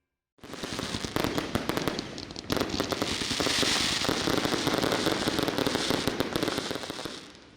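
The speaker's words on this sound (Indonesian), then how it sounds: "Kemeriahan malam pergantian tahun diwarnai dengan pesta kembang api" Dense bursts of New Year's Eve fireworks in Jayapura, Papua, crackle and pop continuously after a brief silence, many rapid explosions overlapping at a steady, loud, distant-to-mid range.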